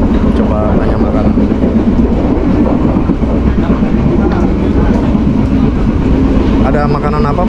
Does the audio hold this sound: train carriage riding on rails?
yes